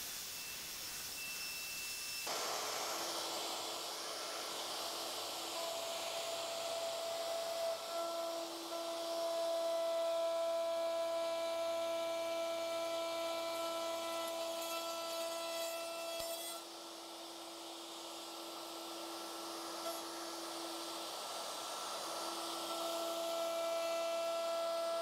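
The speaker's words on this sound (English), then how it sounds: "as I'm routing along, it's splintering all of this timber out here" A router cuts timber on a workbench and splinters the edge of the wood. Its high motor whine drones quietly and continuously, with a faint rasp of the cut running underneath.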